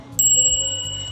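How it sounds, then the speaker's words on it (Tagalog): A handlebar bell on a Husqvarna Svartpilen motorcycle gives a single bright ding that rings on and slowly decays, close and clear with no talk. "And may bell siya dito guys."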